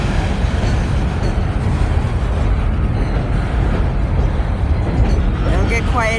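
A loud train rumbles past close by, a continuous heavy roar of rail cars and wheels filling the whole stretch, with a whistle-like tone rising near the end.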